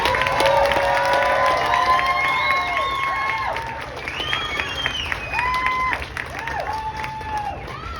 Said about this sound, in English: just give a round of applause for having some courage to come